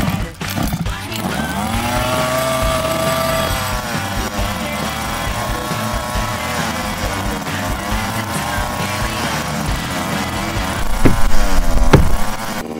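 A gas-powered large-scale RC car engine running after a pull start, with a steady buzzing drone, rising revs, shifting pitch and a louder burst of throttle near the end.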